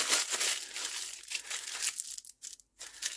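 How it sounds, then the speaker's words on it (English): Greaseproof tissue paper is scrunched up by hand, giving a continuous close crinkling and crackling that breaks into short pauses near the end. "I'm going to put some of this tissue paper, greaseproof paper. I'm just going to scrunch it up"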